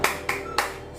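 Three quick hand claps from a teacher in an online classroom, leading the tepuk semangat chant. They are sharp, evenly spaced and close, with a faint ringing tail after each.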